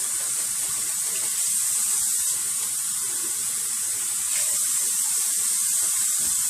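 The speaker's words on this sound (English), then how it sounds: "I'm going to put 2 cups of water" Water streams steadily into a pot of homemade chilli, a continuous hissing, splashing pour at close range that runs unbroken for several seconds with no talk over it.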